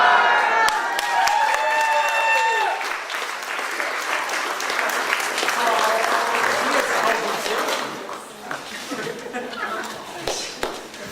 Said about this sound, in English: I would like to give her a round of applause